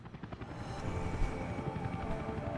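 Helicopter in the city-building game Workers and Resources, a steady rotor thrum with rhythmic blade chop holding throughout at moderate level.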